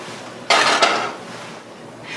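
A fried egg slides out of a buttered nonstick pan, producing a single close scraping clatter of cookware lasting about half a second, followed by quiet.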